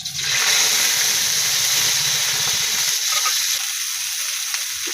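Chopped onion frying in hot oil in a wok, a loud, steady hiss and sizzle that stays close and constant throughout, with faint clicks in the background.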